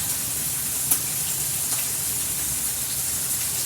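Bacon sizzles in a pan as a steady, close hiss with faint crackles and pops, continuous and alone without talk.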